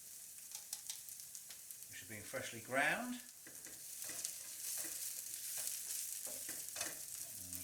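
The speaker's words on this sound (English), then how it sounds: "And here it's sizzling away there." Freshly ground spices sizzle and crackle in hot oil in a frying pan for an egg and potato curry, a steady close frying hiss with stirring, while a voice talks over it.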